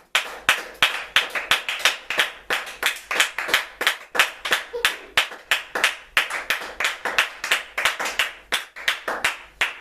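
A church congregation claps in a steady, even rhythm, many hands striking together in quick, sharp beats, close and lively, with no talking.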